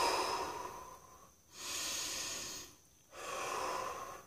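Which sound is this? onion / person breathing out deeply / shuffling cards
person breathing out deeply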